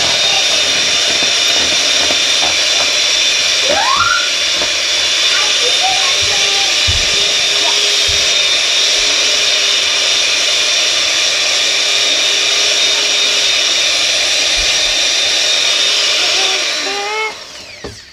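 An electric mixer beats baking batter with a loud, steady, high whirring hiss that runs almost the whole time and winds down at the end, with brief voices over it.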